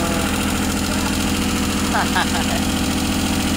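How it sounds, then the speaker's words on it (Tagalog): A Suzuki F6A engine idles with a loud, steady exhaust note from a holed exhaust pipe, a continuous close rumble with faint talk under it. "malaking tingog kay ang tambutso buslot."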